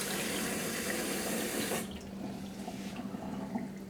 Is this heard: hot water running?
yes